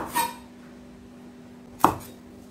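Two sharp knife chops on a board while green onions are cut, one near the start and one a little later, separated by quiet with a faint steady hum underneath.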